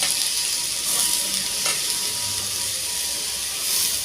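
Washed vade, savoury fritters, drop into a hot pan and fry with a steady loud sizzle and hiss, a utensil stirring through them now and then, with no talking.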